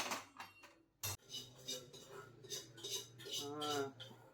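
Dishes, pots and cutlery clatter while being washed in a home kitchen after cooking, with scattered clinks and one sharp knock amid running background noise.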